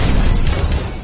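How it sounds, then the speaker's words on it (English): A loud, booming explosion rumbles through a battle in the World War II shooter Call of Duty: World at War, a heavy low roar that swells and decays over about a second. "Well, that was an interesting explosion."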